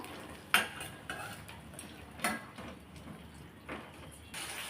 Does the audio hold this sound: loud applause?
no